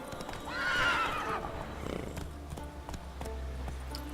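Roach, a horse in the Witcher 3 video game, gives a loud whinny near the start, followed by hoof clip-clops over background game music.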